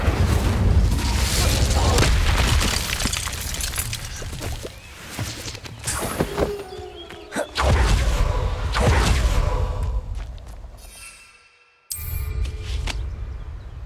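Incendio fire spell cast in the Hogwarts Legacy video game, a loud roaring whoosh of flames with rumbling booms that sustain, cut out abruptly near the end, then resume.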